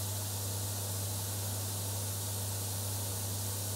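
A paint spray gun hisses steadily in a workshop while spraying dye or lacquer on a guitar body. It is a continuous, even rush of air and spray with a low mechanical hum underneath, and nothing else is heard.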